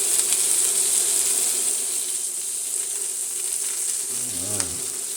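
Bacon-wrapped asparagus sizzles in a pan with a steady, close, continuous hiss. A short tonal sound rises briefly near the end.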